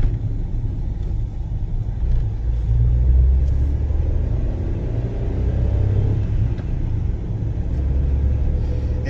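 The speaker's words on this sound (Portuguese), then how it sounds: "Desses carros aí estão indo lá para embarcar para a Ilha do Mel." Steady rumble of cars rolling along a coastal highway in Pontal do Paraná toward the Ilha do Mel ferry, continuous mid-distance road noise that swells and fades as vehicles pass, with no voices.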